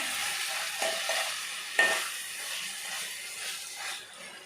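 Chicken curry pieces frying in oil while being stirred over medium heat, a soft steady hiss with light scraping strokes and one sharper clink, near and moderate in level, no speech.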